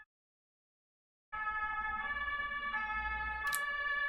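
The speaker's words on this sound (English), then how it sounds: "Just wait for the police to drive by. Or is it a police? Maybe an ambulance." Siren of a passing emergency vehicle, a police car or ambulance, rising after a silent pause into a steady wailing tone with no speech, faint and in the distance.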